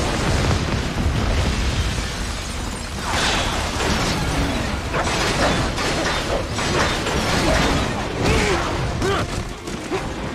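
Missile blasts from the video game Metal Gear Rising: Revengeance, a loud, continuous barrage of booming bursts and crackling debris with mechanical clatter, dense and close throughout.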